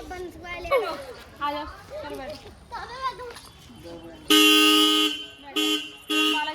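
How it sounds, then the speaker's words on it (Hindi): A car horn blares loudly in a long blast followed by two shorter honks, after a person talks excitedly nearby. "हॉर्न बजाने लग गया।"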